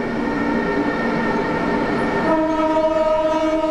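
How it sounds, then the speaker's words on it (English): A cargo train on the China-Laos Railway near the border town of Mohan sounds a loud, sustained horn blast with steady tonal bands over a rumbling engine, shifting pitch partway through and holding to the end. "Train whistles, pierces the stillness of Mohan."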